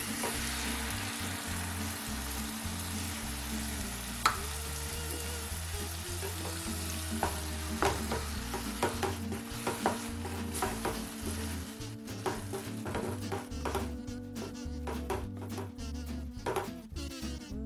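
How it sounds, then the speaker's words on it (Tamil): Tomato puree cooking with sautéed capsicum in a pan, a long steady sizzle and bubbling with repeated stirring scrapes and light clinks of a spoon, loud and close throughout. "கொடமிளகாய் சேர்த்து வதக்கின பிறகு ரெடி பண்ணி வச்சிருக்க டொமேட்டோ பியூரி சேர்த்துறேன்."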